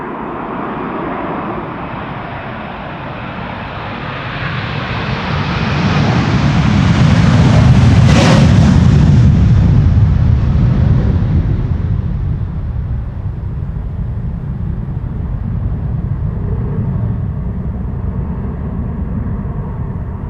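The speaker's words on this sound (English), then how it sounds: "This is Delta Airlines, flight 161, going to Minneapolis, Minnesota. A330-300." An 8-year-old Delta Airlines Airbus A330-300, flight 161 to Minneapolis, departs Amsterdam Schiphol in a crosswind. Its loud jet roar swells to a peak as it passes close by, with a sharp whine at the peak, then fades into a lingering rumble.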